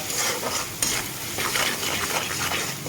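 Ground cumin and coriander frying in a pan for a vegetarian soybean cutlet, with close stirring scrapes over a light sizzle and a brief utensil tap, no voices.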